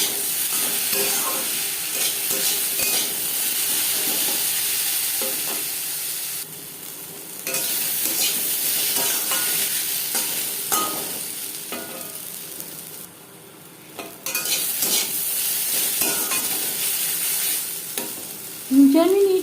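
Potatoes frying in a pan with no onion or spices, stirred with a utensil; a steady loud sizzle runs throughout, with scraping stir noises and brief dips in intensity.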